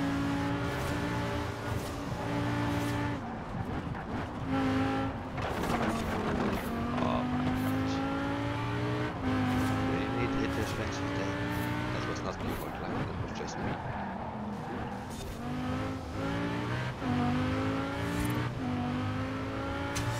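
A Lamborghini Huracan in the Forza Horizon 4 racing game drives on an autumn road strewn with leaves, its engine droning and revving up and down steadily for the whole stretch, with a player talking over it.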